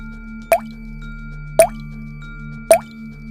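Water drips from a tap in a horror story sound effect, three distinct plopping drops about a second apart, close and clear over a low steady hum.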